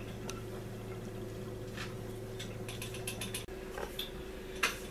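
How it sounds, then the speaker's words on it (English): Pizza cutter rolled through flat hardtack dough, making soft scraping and clicking passes in short irregular strokes, close and quiet over a faint steady hum. "I'm using a pizza cutter to cut mine"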